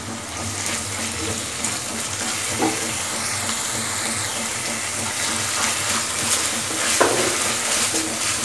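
Fried onion, chilies, garlic, ginger and cumin paste are stirred in a hot pan, giving a steady sizzle with soft scraping stir strokes and occasional louder clinks, no talk.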